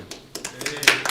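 Short burst of scattered hand claps from the audience at a Coeur d'Alene city council meeting, a few uneven claps in a hall, moderately near, with a faint voice underneath.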